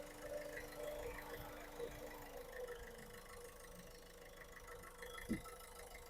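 A 2015 Ford Figo Aspire diesel engine idles smoothly and evenly, a faint, steady low hum with a few light knocks and a sharp click at the end.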